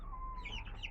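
Young chickens in a backyard coop give soft, close clucks and chirps over a steady low hum, a short continuous burst with no talking.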